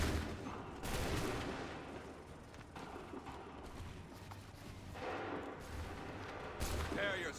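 Soldiers fire musket volleys in Assassin's Creed III: a few heavy, ragged bursts of gunfire rising over a constant rumble of battle noise.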